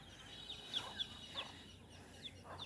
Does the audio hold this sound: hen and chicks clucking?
yes